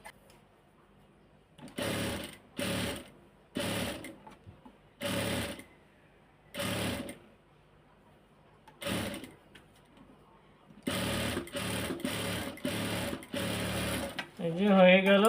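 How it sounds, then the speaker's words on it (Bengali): A sewing machine stitches cloth in a series of short, evenly spaced bursts with quiet pauses between them, then runs longer and more continuously near the end. "আমি ধীরে স্থিরভাবে সেলাই করতেছি আপনাদেরকে দেখানোর জন্য"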